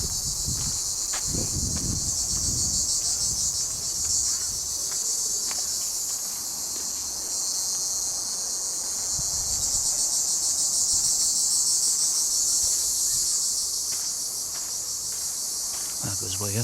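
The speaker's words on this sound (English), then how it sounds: "the sound of those crickets" Cicadas buzz in a steady, dense high-pitched drone at the hot Kamiros archaeological site, with faint rustling and footsteps underneath and no speech.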